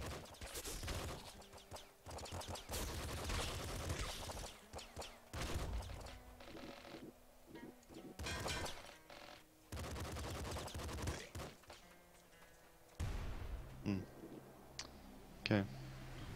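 Rapid gunfire bursts from the top-down shooter video game Nuclear Throne, dense and continuous with sharp repeated shots, while a player talks over much of it.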